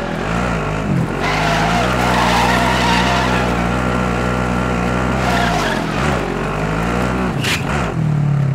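A light vehicle drives with a loud, steady engine drone and continuous tire skidding throughout, with a sharper squeal near the end and no voices.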